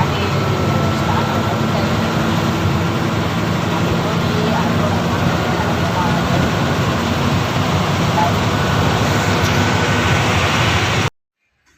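A goods lorry or truck on a Bengaluru to Ranebennur run, its engine started and running, giving a steady, loud, broadband drone that continues evenly before cutting off abruptly near the end.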